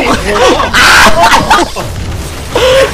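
Gas pump blowing up after being shot during a Left 4 Dead 2 Halloween party match, a loud booming burst with crashing debris and game noise, while players shout and talk over it.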